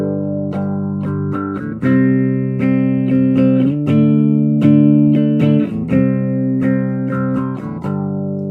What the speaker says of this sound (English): Now I'm going to take the speed all the way down so you can kind of hear the effect of changing the tone